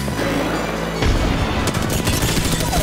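Rapid video-game gunfire in an Apex Legends-style match, with dense bursts of loud shots and booming impacts, close and continuous.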